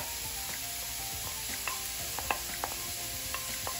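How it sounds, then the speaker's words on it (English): Chopped mushrooms sizzling and frying in a pan, a steady hiss with light stirring clicks and scrapes scattered throughout, close and moderate in level, no voices. "We're adding the chopped mushroom"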